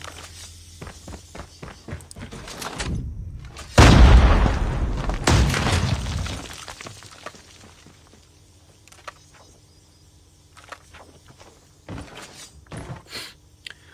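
An AK117 in Call of Duty Mobile fires with its special shot sound: a heavy booming blast rolls out for a couple of seconds after faint clicks and thuds, then quieter taps and scattered game sounds follow.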